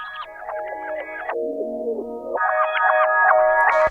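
A reversed synth phrase without a spectral gate plays alone, with bright layered harmonics that drop to a lower, murkier register midway, then jump back up, warbling and smeared throughout.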